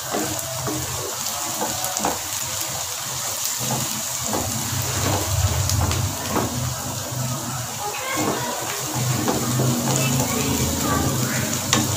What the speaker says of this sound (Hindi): अदरक लहसुन के पेस्ट को प्याज के साथ भून लें।